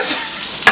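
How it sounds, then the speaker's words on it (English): Cumin and okra sauté for bamya, a close steady frying sizzle in the pan ending with a short sharp clink of a utensil against the metal. "So saute this for 2-3 minutes"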